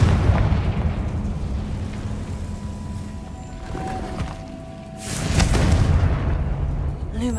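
In Hogwarts Legacy, the Confringo blasting spell goes off as a deep rumbling boom with a sharp burst near the end, over low background noise.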